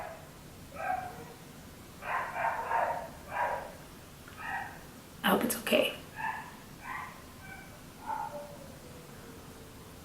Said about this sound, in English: There's the dog downstairs just barking its life away.